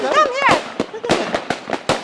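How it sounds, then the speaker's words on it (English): New Year's fireworks pop and crack outside in a rapid series of sharp bangs, heard over a person's excited voice and what sounds like a dog nearby. "Can you hear the fireworks?"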